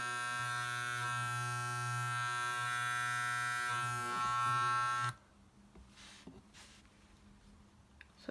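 An Andis T-Outliner hair trimmer, UK/EUR model with an adjusted tension screw, runs with a steady close electric buzz for about five seconds, then switches off, leaving quiet faint handling clicks.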